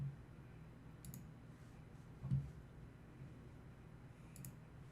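Computer mouse clicks in a quiet room, a couple of faint, brief clicks spaced a few seconds apart with no talking.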